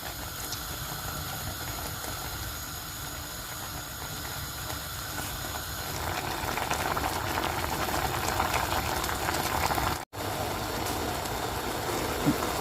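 Water heating to a boil in a pot on the stove, heard as a steady, dense hiss and bubbling rumble that grows slightly stronger midway and is broken by one brief dropout.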